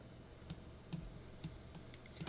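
Keys tapped on a computer keyboard while entering commands in a Linux Ubuntu terminal, a few sparse clicks and short bursts spaced across the moment, close and fairly quiet with no talking.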